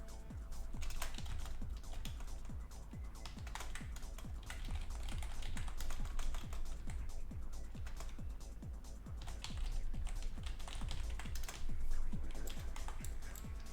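Rapid typing on a computer keyboard: a dense, steady stream of close, crisp key clicks and taps that runs without pause, with no voices.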